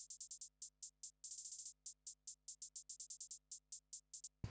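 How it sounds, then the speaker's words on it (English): Isolated trap-style hi-hat panned right, transposed and EQ'd, ticking in a fast pattern of crisp short hits with rapid rolls, solo and dry with nothing else playing. "But this hi-hat on its own sounds like this"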